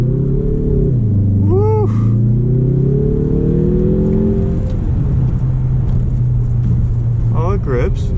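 A 2021 Mazda 3 Turbo revs loudly as it launches from a stop sign, the engine note dropping then climbing steadily under continuous road rumble, with tyre chirps and a person whooping and talking over it.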